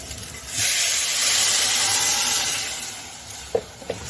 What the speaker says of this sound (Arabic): هنزل بقى بالميه